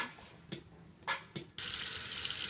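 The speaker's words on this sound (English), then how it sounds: "first step is always to wash your hands" Water from a kitchen sink tap runs steadily for hand washing, starting after a few soft knocks and rubs and then gushing continuously and close.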